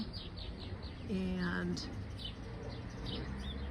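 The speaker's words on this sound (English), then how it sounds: "you can hear the bird song as well." Birds chirp in short repeated tweets at a smart camera bird feeder, faint to moderate and fairly close, with a brief cooing call in the middle and a voice barely audible underneath.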